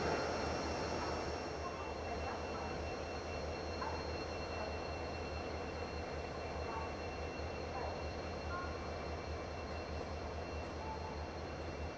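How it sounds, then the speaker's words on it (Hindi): LTT Chennai Central Superfast Express pulling out of Pune Junction, a steady low rumble of rolling rail cars with faint wheel noise, continuous and moderately loud throughout with no clear voices. "पुणे जंक्शन से कोई तो ट्रेन डिपार्ट कर रही है।"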